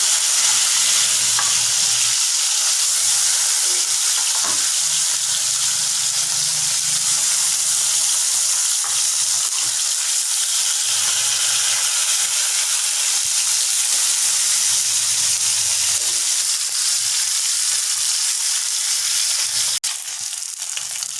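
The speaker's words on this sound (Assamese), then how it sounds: "এতিয়া মই গৰম তেলত মাছখিনি দি দিছোঁ।" Fish fries in hot oil for a tangy Assamese taro-and-fish curry, a loud, continuous close sizzle and hiss with occasional stirring scrapes and bubbling throughout.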